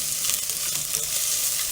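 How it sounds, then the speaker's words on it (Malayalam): Chopped onion sautéing and being stirred in a hot curry pan for a sardine dish, giving a dense, continuous sizzle up close, loud and unbroken, with no talking. "ഇനി നന്നായി ഇളക്കി കൊടുക്കാം. സവോള അവിടെ കിടന്ന് നന്നായിട്ടൊന്ന് മൊരിഞ്ഞ് വരട്ടെ."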